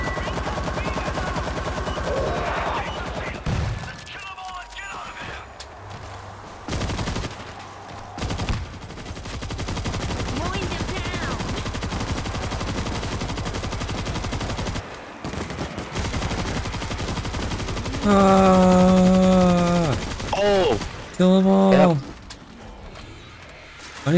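AK rifle fire in the zombie shooter World War Z: Aftermath, long stretches of rapid automatic bursts with brief pauses, loud and close, with voices and game sounds mixed in.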